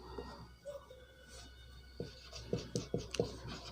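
Someone writes a maths question on a classroom board, producing faint scratchy strokes that sharpen into a quick series of short, distinct taps and scrapes near the end, with no talk over them.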